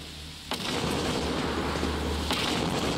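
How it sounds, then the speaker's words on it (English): Continuous heavy bomb blasts and gunfire-like booms from a video game fill the scene, loud and dense, with two sharp bursts punctuating a constant rumbling roar. "There's a lot of explosions."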